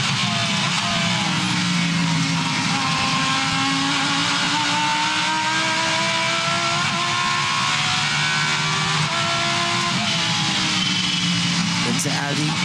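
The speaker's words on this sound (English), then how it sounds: "Do love the sound of this Lamborghini." Lamborghini race car at the Bathurst 12 Hour endurance race, engine rising and falling through revs with gear changes, moderately distant, heard under steady commentary.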